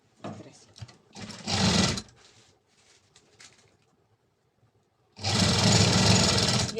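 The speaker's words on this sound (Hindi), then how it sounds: "ये आधा इंच का मार्जिन छोड़ते हुए हम इसकी सिलाई लगा देंगे।" An electric sewing machine stitching a dress, running in two steady whirring bursts, the second longer and loud, with someone speaking Hindi between them.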